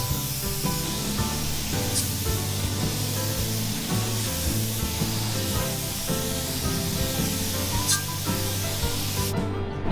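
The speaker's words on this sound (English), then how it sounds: "all we're doing is etching the bare metal" Etch primer sprayed from a spray gun onto bare metal spots on a truck's fender, bumper and grille surround, a steady close hiss running continuously with no talking.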